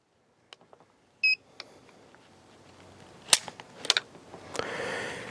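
A Sig Sauer Legion P220 10mm pistol's double-action trigger is pulled against a gauge, giving a few sharp metallic clicks and snaps close by, with small handling noises and a short electronic beep between them.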